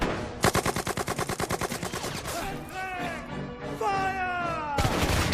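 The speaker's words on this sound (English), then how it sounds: "Give me some cover! Covering fire!" Cartoon machine-gun covering fire rattles in a rapid, steady burst of evenly spaced shots for about two seconds, then gives way to whistling, tonal effects and music.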